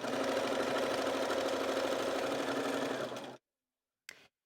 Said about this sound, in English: So we're going to stitch on down, straight stitch, don't have to really do anything else other than sew.